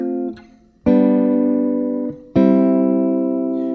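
Two strummed guitar chords ring out in a 5-1 progression, the first sustaining and decaying before the second, brighter chord is struck and left to ring, alone and close.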